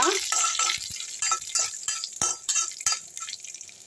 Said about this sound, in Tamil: இப்போ ஒரு கடாயில் கொஞ்சமாக எண்ணெய் ஊற்றிக்கலாங்க ஊற்றிட்டு இந்த மிளகு சோம்பு பட்டை லவங்க இதை போட்டுக்கலாம் போட்டு லேசாக வறுத்துக்குவோம்